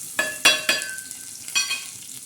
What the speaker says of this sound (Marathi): आता आपण याच्यात कांदा टाकणार आहोत